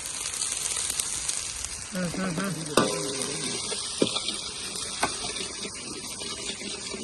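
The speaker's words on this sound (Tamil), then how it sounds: "இப்போ ஃப்ரைட் ரைஸை தாளிக்க போகிறாங்க" Fried rice being tempered with ginger, garlic and eggs in a pan outdoors, a steady frying sizzle with occasional sharp knocks from a utensil and people talking over it.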